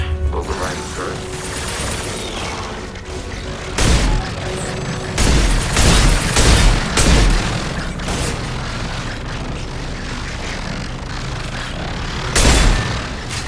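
Automated turret gunfire in Mass Effect 2, heard as repeated loud bursts of shots and booms over a steady mechanical game background, with heavier impacts spaced through the clip.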